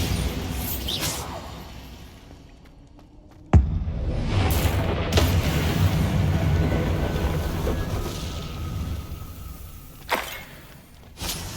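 A sharp blast from the Bombarda spell in Hogwarts Legacy gameplay, a sudden loud crack followed by a rumbling, whooshing roar that slowly fades, with a later softer impact.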